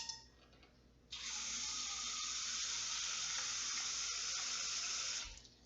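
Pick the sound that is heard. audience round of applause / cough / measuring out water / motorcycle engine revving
measuring out water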